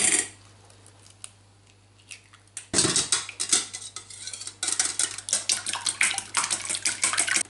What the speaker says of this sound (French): dans un récipient, on va casser nos œufs